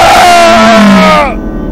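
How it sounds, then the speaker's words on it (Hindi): A loud, sustained scream of pain from a Hindi horror audio story, a strained tonal cry that holds then drops in pitch and breaks off near the end, close and alone. "बाली के मुंह से निकलने वाली चीख से थर्रा उठी सबके साथ"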